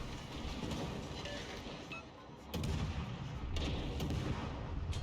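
Heavy naval gunfire from an Italian destroyer in the World of Warships game, a dense continuous rumble of booming shots with sharp blasts near 2.5 and 3.5 seconds, no voices.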